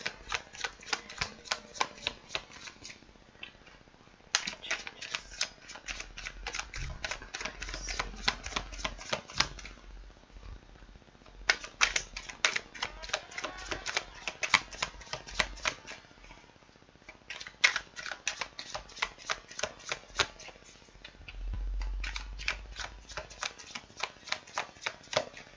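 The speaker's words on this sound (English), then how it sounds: "You can fast forward my shuffling if you don't like to see that." Tarot cards are shuffled by hand in repeated bursts, each a quick, crisp riffle of snapping card edges close to the listener, broken by short pauses and soft handling thumps between rounds.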